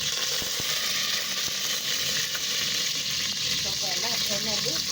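Curry leaves dropped into hot oil after mustard seeds, village-style veg pulao cooking: a continuous close, loud sizzle with faint crackles, and a voice talking softly underneath toward the end.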